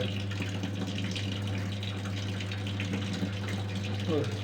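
Water runs in a washing machine during its rinse cycle, a steady gushing flow under a low mechanical hum, quiet and continuous.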